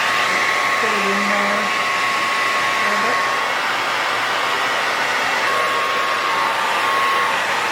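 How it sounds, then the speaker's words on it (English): A blow dryer set on high drying braided hair, a loud continuous whooshing roar that holds steady throughout, close up, with no talk over it. "to the blow dryer. I'm gonna put that on high. Really fast."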